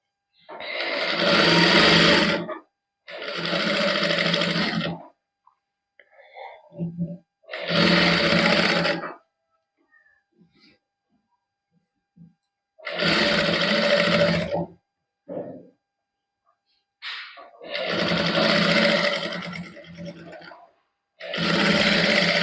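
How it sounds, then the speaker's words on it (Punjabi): Sewing machine stitching along the edge of kameez lining fabric in a tailoring boutique, heard as several loud runs of a few seconds each, separated by quiet pauses with faint handling noises. "ਇੱਥੇ ਸਲਾਈ ਲਾਵਾਂਗੇ ਪਹਿਲਾਂ ਲਾਈਨਿੰਗ ਵਾਲੇ ਕੱਪੜੇ ਤੇ ਬਿਲਕੁਲ ਕੰਨੀ ਤੇ ਇਸ ਤਰ੍ਹਾਂ ਸਲਾਈ ਲਾ ਦਾਂਗੇ"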